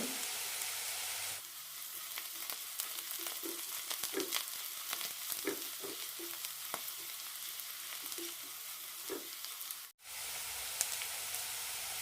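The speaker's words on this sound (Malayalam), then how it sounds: "ചെറിയ ഉള്ളി ലൈറ്റായിട്ടൊന്ന് ഗോൾഡൻ കളർ ആവണം" Small shallots fry in oil until golden, giving a steady crackling sizzle with soft rhythmic stirring scrapes throughout, briefly dipping near the end.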